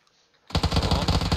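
Machine gun fire in a video game starts abruptly after a quiet moment, a rapid, loud, close stream of evenly spaced shots continuing to the end.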